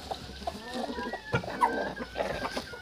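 A broody hen on a Ukrainian farm clucks up close in short, irregular bursts, with faint background shuffling between the calls.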